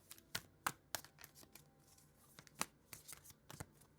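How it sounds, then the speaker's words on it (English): Tarot cards being shuffled by hand, quick sharp riffles and slaps coming in irregular bursts, close and fairly quiet, with no voices. "Just give these just a few more quick shuffles."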